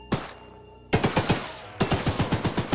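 Rapid, loud shots from a mounted gun on a gunning platform in Choo Choo Charles, fired in two quick rhythmic bursts after a single opening shot, each report sharp and close with ringing decay between.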